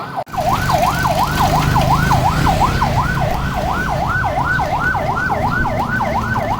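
Emergency vehicle siren wailing in a busy city street in Cebu, Philippines, a loud, close, rapidly cycling yelp that repeats steadily over low traffic rumble.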